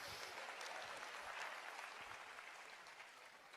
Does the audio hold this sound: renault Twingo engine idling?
no